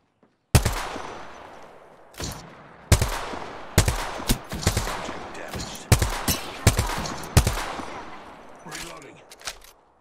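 Gunfire in Apex Legends comes as sharp single shots and short bursts spaced across the clip, under occasional speech.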